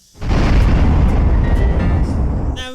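Explosion sound effect played through a phone speaker, a single loud boom with a sudden onset and a long rumbling tail.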